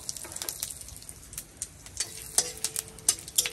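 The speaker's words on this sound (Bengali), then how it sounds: "আমার তেল গরম হয়ে গেছে, তেজপাতা দিয়ে দিচ্ছি ফোড়নে আর জিরে।" Bay leaves and cumin seeds hit hot oil as a tempering, crackling and spitting in quick irregular pops over a low sizzle, with a few sharp ticks near the end.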